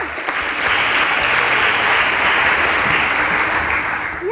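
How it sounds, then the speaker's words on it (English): Loud, sustained applause from a studio audience fills the space evenly, a dense wash of many hands clapping close by for several seconds before tapering slightly. "Let me clap for myself."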